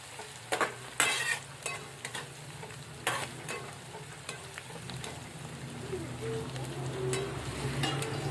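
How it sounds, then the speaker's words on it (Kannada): Onions and curry leaves fry in oil in a pan with a steady crackling sizzle, broken by a few sharp stirring clinks and scrapes early on, all close by with no talking. "ಒಂದು ಸ್ವಲ್ಪ ಎಲ್ಲ ಫ್ರೈ ಮಾಡ್ಕೋಬೇಕ್ರಿ ಚೆಂದಾಗಿ ಎಣ್ಣೆಗ"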